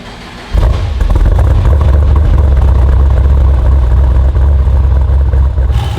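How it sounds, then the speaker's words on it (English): A Chevrolet Camaro engine starts up and runs loud and close beside a shop, settling into a steady, deep idle rumble that continues to the end with no talk. "Well, we're gonna hear a badass Camaro."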